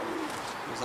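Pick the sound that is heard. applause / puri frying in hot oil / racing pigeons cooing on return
racing pigeons cooing on return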